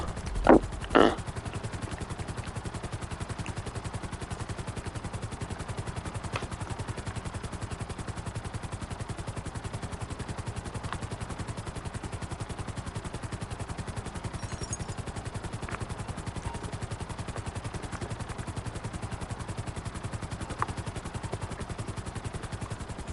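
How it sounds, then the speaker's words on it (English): A helicopter in GTA Online hums as a steady, moderately loud rotor wash throughout, with a couple of sharp bangs near the start and a few faint scattered pops later. "this is a random helicopter"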